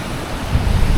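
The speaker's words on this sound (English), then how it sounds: "More waterfalls." A waterfall on a winter mountain trail in Snowdonia gives a steady broadband rushing roar, close and loud, with some wind over the microphone.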